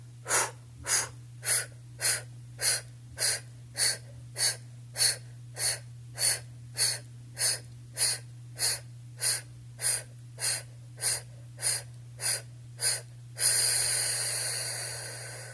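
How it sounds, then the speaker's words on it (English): Forceful breathing exercise with sharp, rhythmic exhales as if blowing out a candle, about twenty evenly spaced puffs close up over a low steady hum, ending in one longer outward breath. "as you're blowing, as if you're blowing out a candle"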